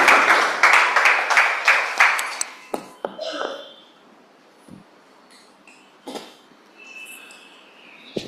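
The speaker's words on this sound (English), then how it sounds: "Let's have a big round of applause to all of us." Applause at a Toastmasters meeting, a burst of fairly close, rhythmic clapping for the first two seconds that breaks off into scattered faint clicks and near silence.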